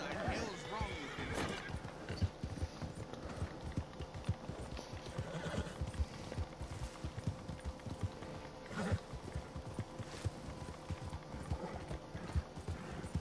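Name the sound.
horse neighing and galloping in a video game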